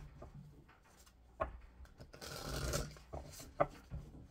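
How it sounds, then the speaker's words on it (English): Tarot cards being shuffled by hand, soft riffling and rubbing bursts with a few sharp taps, quiet and close, with no talk. "Do 2 more shuffles."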